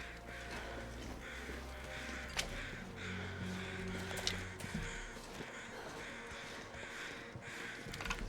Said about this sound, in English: You crows, I swear.